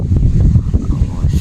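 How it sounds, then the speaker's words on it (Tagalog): Outdoor wind in Taal, Batangas, buffeting the microphone in a steady low roar with gusty swells, loud and close, no other sounds standing out. "Ang sarap ng hangin guys."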